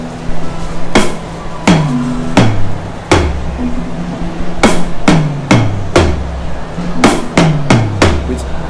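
Medeli DD305 electronic drum kit on its first drum voice, played as loud, sharp hits in an uneven groove, about a dozen strikes over several seconds with deep thuds under bright cracks, close and with no talking.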